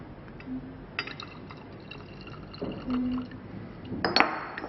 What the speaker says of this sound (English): then chlorine water into potassium bromide,